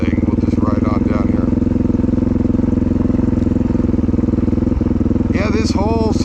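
A motorcycle is ridden along a road at Thousand Trails Sunriver, its engine a loud, close, steady drone with wind rush throughout. A voice briefly breaks in near the end.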